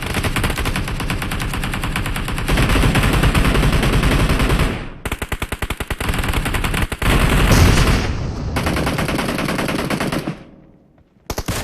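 Rapid automatic gunfire in a PUBG Mobile team deathmatch, loud and close, with sustained bursts, brief gaps, then a final short burst.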